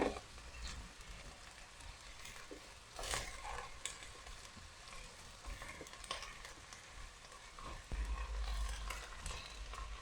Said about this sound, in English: she's ready to put in the harder part of her Chinese mustard greens